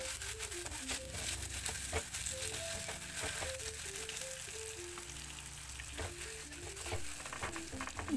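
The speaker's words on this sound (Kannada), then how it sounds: "ಹಾಕ್ಕೊಂಡು ಸ್ವಲ್ಪ ಲೈಟಾಗಿ ಫ್ರೈ ಮಾಡಬೇಕು" Onion, cucumber and masala fry lightly in a pan for a village-style curd tempering, giving a steady, close sizzle that runs the whole time beneath a melodic music bed.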